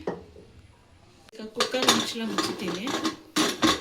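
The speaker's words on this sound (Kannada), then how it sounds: "ಈಗ ಕುಕ್ಕರ್ ಮುಚ್ಚಳ ಮುಚ್ಚುತ್ತೀನಿ." A metal pressure cooker lid clatters shut over a pot, with clinks and scrapes of metal cookware close by, after a short quiet lead-in and no speech.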